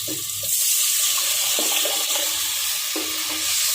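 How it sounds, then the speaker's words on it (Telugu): Strained boiled tomato pours into water in a pot for a Telangana-style egg and tomato curry, a continuous close splashing and gurgling with small clinks, with no talking. "టమాటా ఉడకబెట్టి తీసుకున్న వడగట్టింది ఉంది కదా, నీళ్ళలో పోసుకోవాలి."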